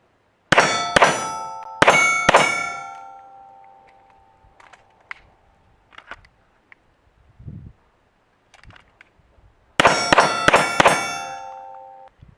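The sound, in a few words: pistol double-tap shots hitting steel targets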